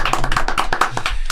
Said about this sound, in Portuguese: Uma salva de palmas, Luciano Tacconi.